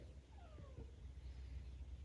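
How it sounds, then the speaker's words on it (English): A single faint meow from a cat outside wanting to come in, one short rising-then-falling call over a low, steady background rumble. "Did you hear that cat? That cat don't talk. It just talked, didn't it?"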